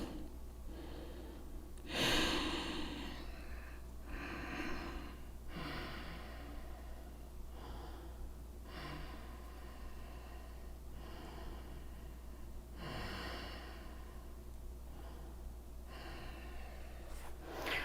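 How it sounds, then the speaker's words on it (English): Steady breathing from a person holding a forward fold in a home vinyasa yoga session. Slow, audible breaths repeat in an even rhythm, close and quiet, over a low background hum. "Breathe steadily."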